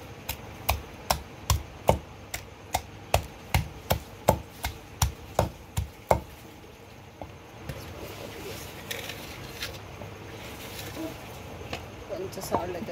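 Knife strikes chopping three peeled garlic cloves on a board, about a dozen sharp, evenly spaced chops in a quick rhythm, then a quieter stretch of kitchen background.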